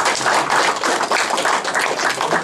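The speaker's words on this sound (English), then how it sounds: "Clap your hands." Party audience in Jeddah clapping hands together, a dense continuous patter of applause that stays steady and fairly loud throughout, with no voices on top.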